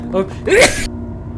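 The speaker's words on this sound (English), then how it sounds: "Not sneezed for 3 days the second I start recording." A single sudden human sneeze with a sharp inhaled lead-in, loud and close, breaking into the quiet of a home recording session.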